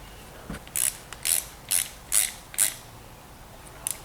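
Ratchet cranking down a bolt on the front suspension control arm of a BMW E92 335i, five short close clicking bursts in a steady rhythm with brief pauses and no talking.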